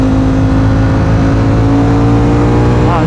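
A Ducati Streetfighter V4 motorcycle engine roars close and very loud, holding a steady, high-pitched howl under hard revs with a rough, buzzing edge and no talk.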